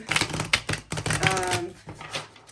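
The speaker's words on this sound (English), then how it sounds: "What kind of shuffle is this? Like the riffle shuffle?" Rapid bursts of crisp card flutter from a riffle shuffle of tarot cards, several quick clattering runs close by, with a brief voice-like tone partway through.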